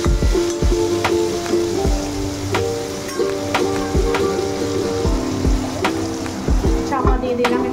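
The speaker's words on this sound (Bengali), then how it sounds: "চাপা দিয়ে দিলাম, একটুখানি ভাজা হোক" Potatoes frying in hot oil with whole garam masala, bay leaf and cumin, a loud, dense crackling sizzle with sharp pops and clinks of a utensil at irregular intervals, close up.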